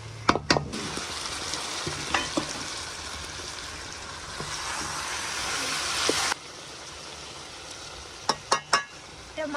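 Ginger and garlic paste fries in a pan in a village kitchen, with a dense hissing sizzle, a few sharp utensil knocks at the start and again near the end, and the hiss briefly easing partway through.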